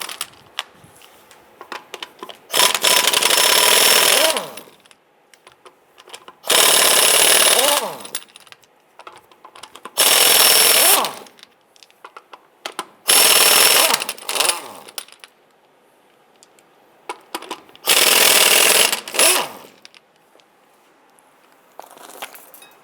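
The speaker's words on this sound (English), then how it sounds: "Using your 19mm socket, go ahead and loosen and remove the nuts." Lug nuts on a 1995-2001 Ford Explorer wheel are loosened and removed with a 19mm socket on a power tool, giving five loud, roughly two-second whirring bursts separated by quiet pauses.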